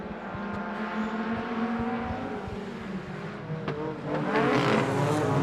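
Stock cars race around a circuit in a busy roar of engines, with revving and passing cars layered at middle distance and a louder surge near the end.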